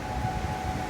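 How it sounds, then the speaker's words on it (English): Civil defense sirens during a tornado warning hold a steady, sustained wail at a distance, heard alone over low rumbling wind noise. "you can hear the sirens going off here now"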